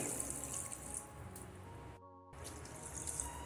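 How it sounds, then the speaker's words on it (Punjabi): Water is poured from close by into a pan of potatoes cooking in tempering, giving a steady splashing stream that breaks off briefly midway before resuming. "ਇੱਥੇ ਹੁਣ ਅਸੀਂ ਪਾਣੀ ਪਾ ਦੇਵਾਂਗੇ"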